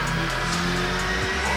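An Abarth 595 running on 93 pump gas revs on a dyno, the engine note climbing and shifting in a sustained loud drone without speech.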